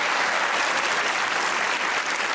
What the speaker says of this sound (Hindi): अगर हैं तो थोड़ी सी ताली और बजाइए